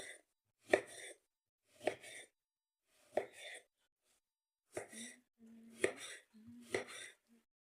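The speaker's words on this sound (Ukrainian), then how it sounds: "Та нарізаю так дрібненько апельсинчик." A knife finely chops an orange on a board in short bursts, about six clusters of quick taps spaced roughly a second apart, close and fairly quiet.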